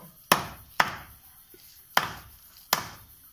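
Broiler chicken is hacked into pieces with four sharp, heavy chops landing at uneven intervals, each one a loud crack followed by a short decay, close by with no talking.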